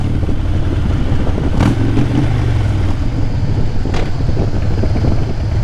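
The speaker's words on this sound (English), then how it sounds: "I like the throttle jockey. I like the way the pipes sound." Motorcycle engine with loud exhaust pipes, held at a steady throttle with a brief rev swell, close and continuous over wind noise with no talk.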